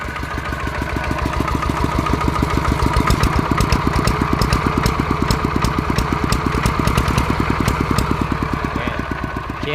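A Kubota ET95 walking tractor's diesel engine runs steadily close by, with a loud, even, rapid chugging beat that keeps going the whole time with no voices.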